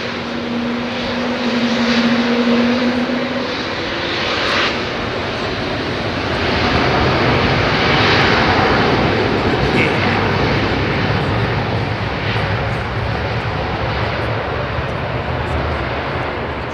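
At London Heathrow Airport in the evening, an Airbus takes off with a broad jet roar that swells, peaks and slowly recedes into the distance. A faint voice and background hum sit beneath it.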